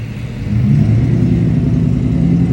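A loud, low engine rumble swells and then holds steady, like a truck passing close by in traffic.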